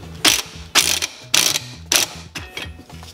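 A ratchet tightens the bracket fitting on an air spring for a Toyota Tacoma, six quick bursts of sharp metallic clicking spaced about half a second apart, close up and alone.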